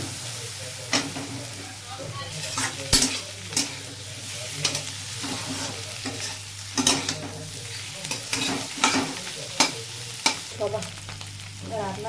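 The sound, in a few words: potatoes and spices stir-frying in a pan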